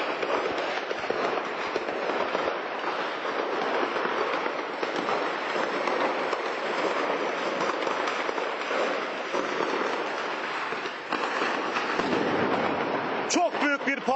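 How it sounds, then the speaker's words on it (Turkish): Ammunition depot in Afrin exploding, a dense, continuous crackling barrage of blasts and pops with sharper bangs near the end, while a voice talks over it. "Çok büyük bir patlama oldu şimdi."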